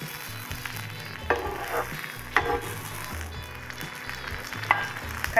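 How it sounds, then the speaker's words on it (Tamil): Pomfret fish wrapped in banana leaf frying on a dosa tawa, a continuous soft sizzle with occasional scrapes and clinks as it is turned, close and moderately quiet. "இதை தோசை தவால வச்சு ஃப்ரை பண்ணிடலாம்"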